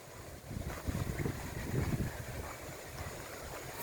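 Strong wind blowing hard outdoors, a loud continuous rushing roar with gusty swells and buffeting against the microphone, no voices.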